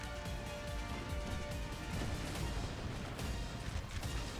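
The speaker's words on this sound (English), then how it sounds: "Maybe that was the artillery on this flank." Artillery fire in Napoleon: Total War, a dense continuous rumble of distant booming cannon and battle noise with no distinct separate shots, sustained throughout at moderate level.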